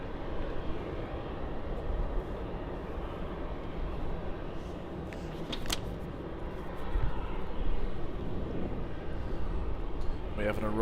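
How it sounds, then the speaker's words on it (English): A Virgin 737 on final approach into Melbourne Tullamarine, arriving from Hobart, gives a steady broadband jet roar that swells slightly toward the end, mid-distance and continuous, with a voice talking over it. "Should be a Virgin 737 coming in from Hobart, Virgin Flight 1313."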